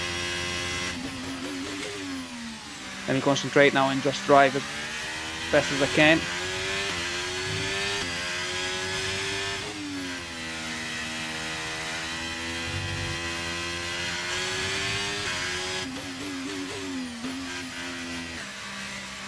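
A high, whining F1 car engine in the F1 23 video game drones steadily throughout, shifting pitch with gear changes, while someone talks over it.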